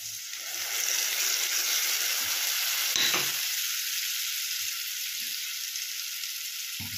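Spice paste hits hot oil for a Bengali kajli fish curry and sizzles steadily and close, a continuous frying hiss with a brief clatter of stirring partway through and no talking.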